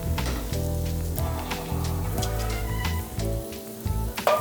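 Butter, about a tablespoon, melts in a hot pan while a broth is being thickened, giving a steady close sizzle and crackle with a few clinks of utensils and no talking.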